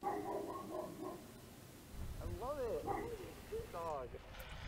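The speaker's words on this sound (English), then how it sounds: "Shut up, dog." A dog gives a few short, faint yips and barks in two brief bursts over an outdoor background hum.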